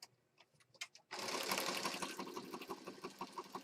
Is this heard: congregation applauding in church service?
no